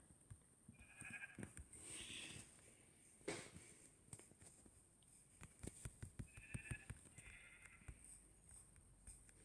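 Sheep in Minecraft bleat faintly two or three times over a quiet game backdrop, mixed with soft scattered footstep clicks.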